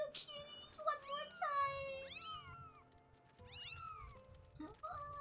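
Several cats meow repeatedly in the game Skyward Sword HD, a busy overlapping chorus of high, bending mews over a low background hum.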